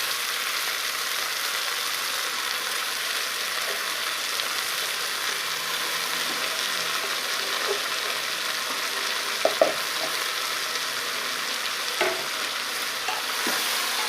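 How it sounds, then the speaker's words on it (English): Washed cabbage frying and being stirred in a pan over a high gas flame, a steady broadband sizzle throughout with a few sharp spoon knocks against the pan near the end, no talking. "I'll put all the washed cabbage in. I have put in the gas on high flame."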